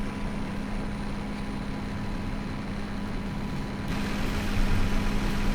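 Steady, continuous drone of a tractor engine in Farming Simulator 17, a low droning idle with a constant hum that grows slightly louder and fuller toward the end, with no talk over it.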